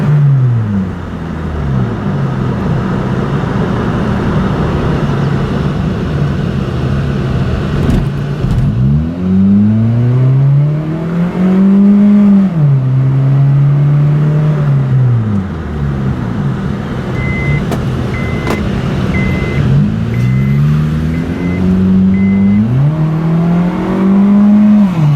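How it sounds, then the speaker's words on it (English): A car engine revved hard through the gears, each pull rising steeply in pitch then dropping at the shift, in two loud close bursts separated by a brief lull. "Gear shifting at max RPM so the engine gets hot and coolant can circulate."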